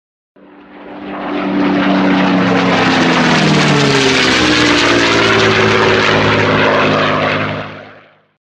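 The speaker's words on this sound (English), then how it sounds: "Avro Lancaster heavy bombers of 617 Squadron roar down the runway at RAF Scampton and leap into the air." Avro Lancaster heavy bombers of 617 Squadron roar down the runway at RAF Scampton on takeoff, their propeller engines swelling from near to a loud sustained drone and then fading away, with no voices.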